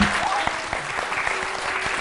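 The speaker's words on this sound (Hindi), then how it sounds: "तालियां बजा दो यार, ताली पागलपन।" An audience claps and cheers in a studio talk show, a dense, steady wash of applause that holds throughout at full strength.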